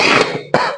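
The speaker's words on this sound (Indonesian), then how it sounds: "Saya batuk barusan." A man indoors gives two quick, close coughs during a religious lesson, a harsh burst followed after a short gap by a second sharp cough.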